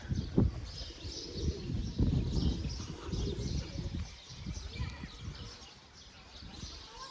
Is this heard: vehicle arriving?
no